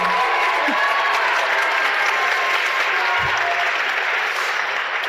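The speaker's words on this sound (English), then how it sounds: "Give them another round of applause." Sustained applause from a winter concert audience for the soloists, a thick, even roar of clapping that holds at a constant loud level throughout.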